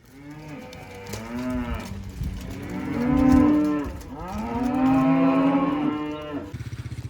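Cattle moo repeatedly in a farm cattle yard as weaned calves are moved back to the cattle court, with long, loud, overlapping calls rising and falling over several seconds, close by and with no talk.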